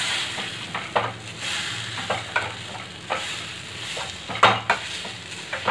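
Boiled potatoes are worked into a sizzling pan for greens cutlets, with a steady soft fry under repeated rhythmic thuds and scrapes of a masher or spatula against the pan.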